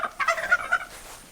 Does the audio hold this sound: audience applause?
no